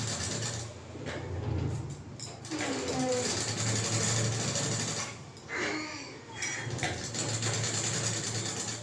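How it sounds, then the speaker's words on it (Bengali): A sewing machine stitches a princess-cut blouse in quick mechanical runs of rattling needle action, pausing and restarting several times, fairly quiet and close. "এইভাবে সেলাইটা দেবে।"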